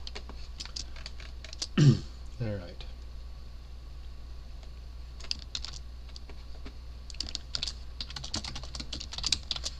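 Soft clicking of typing on a computer keyboard, with a louder bump of a hand knocking the microphone early on, steady light key taps throughout and a brief spoken word.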